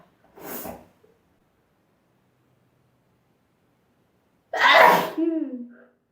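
Two sneezes a few seconds apart with silence between, the first short and softer, the second louder and fuller, trailing off with a breathy tail.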